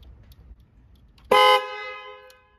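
A car horn blasts once while being tested during a check for a non-working horn, a single loud steady tone of about a quarter second that rings and fades out afterward.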